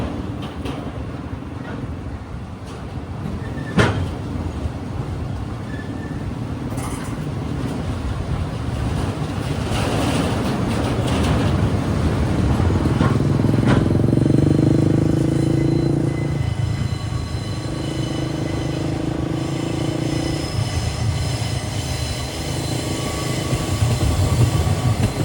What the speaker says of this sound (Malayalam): റെയിൽവേ സ്റ്റേഷന്റെ ഭാഗത്തേക്കാണ് ഇപ്പോൾ ട്രെയിൻ എത്തുന്നത്